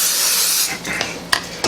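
Cooking spray hisses onto a hamburger patty maker in a steady burst up close, then a few short spritzes and light clicks follow.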